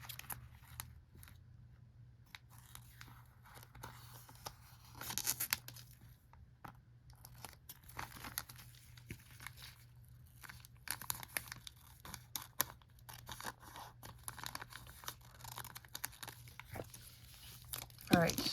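Packaging of a Kracie Popin' Cookin' candy sushi kit is snipped with scissors and torn off, giving crinkling plastic, cutting clicks and tearing rustles close by under a low background hum.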